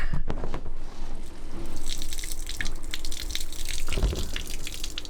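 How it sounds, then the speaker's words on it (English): Water runs and gurgles continuously nearby, a steady splashing trickle with occasional louder spurts. "that's draining water"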